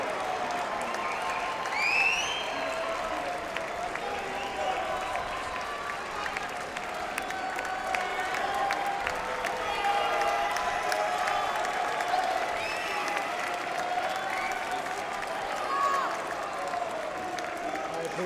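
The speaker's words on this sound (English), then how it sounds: "High appreciation from the Luxembourg crowd." Sustained applause from a Luxembourg rugby crowd rolls on steadily at moderate distance, a dense wash of clapping with some crowd noise layered over it throughout.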